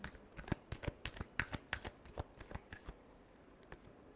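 Tarot cards being shuffled by hand, a run of crisp riffling flicks in quick uneven bursts, close and fairly quiet, easing off toward the end.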